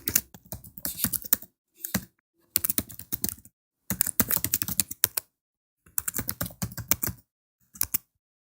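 Quick bursts of computer-keyboard typing while login credentials are entered, with clattering keystrokes up close broken by short pauses.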